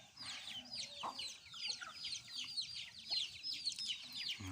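Fighting cock chicks and hens cluck and chirp repeatedly in quick, overlapping bursts at close range, with some low rustling underneath.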